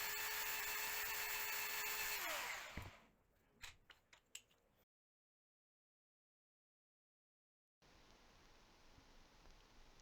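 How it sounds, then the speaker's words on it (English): A belt sander whines loudly while smoothing saw marks off small wooden wedges for bar clamps, then spins down. A few sharp knocks follow, then a pause of silence before a faint steady hum returns. "I'm just going to clean up the wedges just on their surfaces, take out the saw marks"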